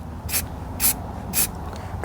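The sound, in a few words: spray paint can spraying purple paint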